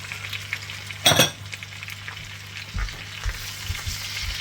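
Onions and peppers hit a hot cast iron pan: a sharp burst of sizzling as they drop in, then a softer steady fry with a few stirring scrapes.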